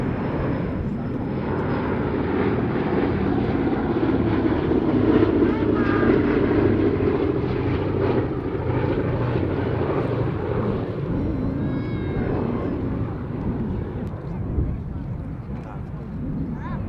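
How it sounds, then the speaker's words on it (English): The B-17G Sally B bomber flying a display over Duxford at an airshow, its piston engines and propellers making a loud, sustained droning roar throughout. "What a pleasure to once again see a display over Duxford from B-17G"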